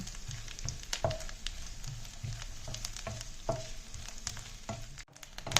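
Coconut pieces and onion frying in a pan for a jackfruit-seed stir-fry, a steady close sizzle with repeated stirring scrapes and spoon clinks, no voices.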